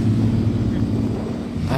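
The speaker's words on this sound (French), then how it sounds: "Et ça c'est une Alfa je crois." An Alfa Romeo car drives on ice, giving a brief steady engine rumble at moderate distance with no talk over it.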